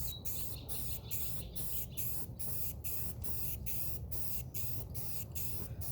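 A spray can lays a light first coat of paint on a CycleKart, a steady close hiss broken by a regular run of about a dozen quick pulses as the can sweeps back and forth.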